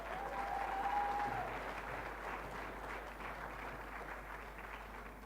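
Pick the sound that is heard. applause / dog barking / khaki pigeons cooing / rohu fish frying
applause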